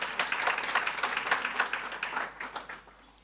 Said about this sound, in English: Applause for Opa.